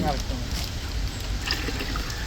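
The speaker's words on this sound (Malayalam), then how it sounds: "അടുത്ത നമ്മളിതിൽ ഒഴിക്കുന്നത് സ്പ്രെഡ് ഓൺ എൻഡി എന്ന് പറഞ്ഞൊരു പശയാട്ടോ" Spread On ND liquid adhesive is poured into organic fertilizer mix meant for coconut and areca palms, giving a soft, continuous trickle under low background voices.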